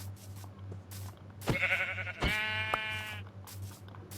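Minecraft sheep bleat twice in quick succession, a loud, close, wavering baa over a low steady background hum.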